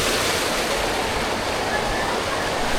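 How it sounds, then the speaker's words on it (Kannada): Steady, loud rushing of flowing water, a continuous broadband wash with no pauses and no voices. "ಸೊ ಮ್ಯಾಗಿಂದ ಕಂಟಿನ್ಯೂಸ್ ಆಗಿ ನೀರು ಬರ್ತಿರ್ತೈತಿ"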